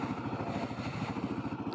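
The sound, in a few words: Kawasaki KLR650 motorcycle engine as the clutch engages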